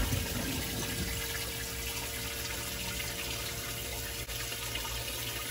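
Flow-Rite live well pump on a bass boat running steadily as water moves through it, a constant close rushing, gurgling flow with faint pump hum, no talking.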